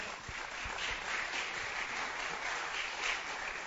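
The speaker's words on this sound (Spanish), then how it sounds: "¿Se anima a darle un aplauso bien fuerte al Señor?" Steady applause from a church congregation, a dense wash of many hands clapping at a constant level for the whole stretch, with no talking over it.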